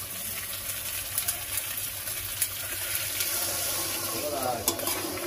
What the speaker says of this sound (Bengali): পরিমাণ মতন জল দিয়ে দিলাম।